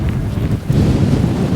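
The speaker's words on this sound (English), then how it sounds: "The wind's really getting up now." Strong wind buffets the microphone on an open Lake District fell above Loweswater, a loud continuous rumble that gusts unevenly.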